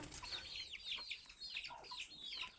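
Chickens near a coop at evening feeding time on a farm, soft clucks and chirpy calls from several birds at middling distance over faint background hiss, with no talk.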